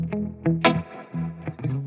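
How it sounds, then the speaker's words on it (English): An electric guitar plays a few plucked notes and a short chord through a Princeton Reverb reissue amplifier with tremolo, each note pulsing slightly as it fades. "it's got a little bit of a tremolo on it."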